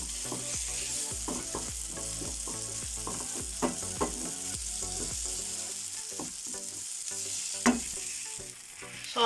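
Eggs fry in a pan with tomatoes and onions, giving a steady sizzle under repeated scraping and stirring clicks from a utensil, close and fairly loud with no talk.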